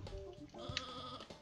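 Sheep bleating in the video game Looney Tunes: Sheep Raider, a single quavering, wavering bleat of about a second, fairly soft and close, with no talk over it.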